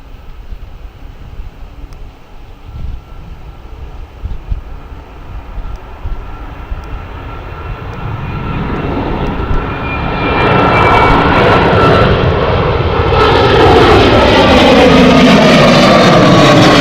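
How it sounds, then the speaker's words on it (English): A Transat Airbus A321neo taking off at Gatwick Airport, its jet engine roar building steadily from a distant rumble to a loud, broad, sustained thunder as the aircraft rolls and departs. "This is the Airbus A321 Neo heading off"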